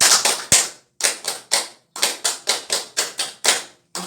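An audience performs the scout clap, tepuk pramuka, in a rhythmic pattern of sharp group claps in quick bursts separated by short pauses, loud and close with no talking.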